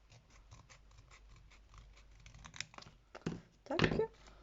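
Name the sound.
scissors cutting paper for scrapbooking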